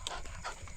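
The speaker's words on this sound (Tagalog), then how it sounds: "Yan po ating mga aso." Dogs pant close by in quick, breathy huffs at night on a farm, with a slight rumble of background noise underneath.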